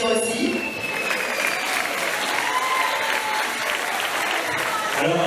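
An audience applauds at the Miss Lens 2024 beauty pageant in Lens, with dense, steady clapping from a crowd that carries on throughout, joined by faint cheers.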